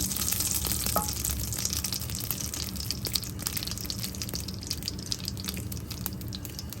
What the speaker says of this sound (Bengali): চার পাঁচটা শুকনো মরিচ দিয়ে মরিচগুলি আগে ভালো করে ভেজে নেবো